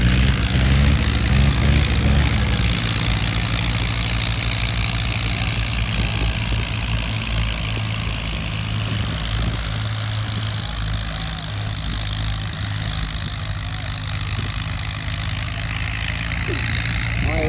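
Tractor engines idle at an outdoor tractor fair in Mirpur, Azad Kashmir, a steady heavy low rumble and throb running throughout at close range, with faint crowd noise behind it.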